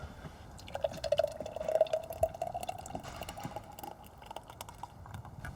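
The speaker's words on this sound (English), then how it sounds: "I'd be tempted to pour it straight from the pan" Gravy pours from a pan onto food at a Kamado Joe grill cook, a faint trickling stream with soft drips and light clinks running for several seconds.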